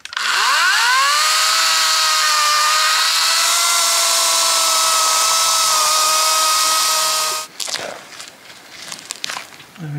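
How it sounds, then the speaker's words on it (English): A chainsaw cuts tree roots in a garden plot, revving up sharply and then holding a loud, steady whine for several seconds before cutting off, followed by scattered rustling and thuds. "let's get some chainsaw work and get these roots out"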